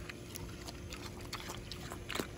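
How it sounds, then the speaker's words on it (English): Wet, close-up chewing and crunching as a potbelly pig eats watermelon, with soft snuffling and a slurpy bite near the end. "Everyone wants to watch a pig eating a watermelon"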